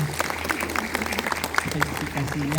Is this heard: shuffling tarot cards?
no